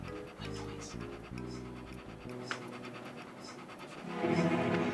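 A dog pants close by in quick, rhythmic breaths, with short pauses and a faint scratch, and no one speaking over it.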